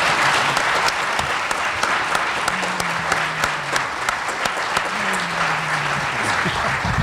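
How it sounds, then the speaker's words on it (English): An audience at a city commission candidate forum in Junction City, Kansas gives a sustained round of applause with dense clapping, while a voice speaks briefly over it. "Let's give them a big round of applause for coming out this evening."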